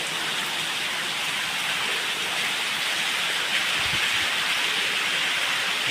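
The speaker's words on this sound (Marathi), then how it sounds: "सध्या बघा वीप होलमधून जे आहे हे पाणी येत आहे" Water runs out of weep holes inside a railway tunnel under construction, giving a steady, dense rushing patter like heavy rain that stays even throughout, with no voices.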